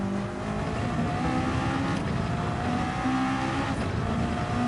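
BMW hypercar engine in the Gran Turismo 7 racing game, a loud continuous droning roar with shifting tonal pitches as the car accelerates and changes gear.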